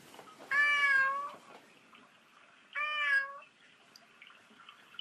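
A cat named Mister gives two clear, fairly close meows, the first longer and drawn out, the second shorter after a brief pause, over a faint background hiss.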